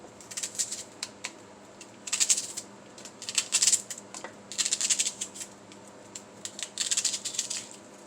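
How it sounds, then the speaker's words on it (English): A knife chops through onion into thick slices, giving repeated crisp cuts in short bursts on a board with quiet pauses between them. "Cut me an onion up. I want these onions kind of thick."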